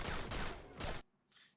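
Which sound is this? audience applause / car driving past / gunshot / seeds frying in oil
gunshot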